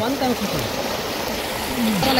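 Water from a solar-powered irrigation pump gushes hard out of a 4-inch delivery pipe on a farm, a steady loud rushing and splashing that fills the whole stretch.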